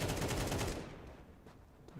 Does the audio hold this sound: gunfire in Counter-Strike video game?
yes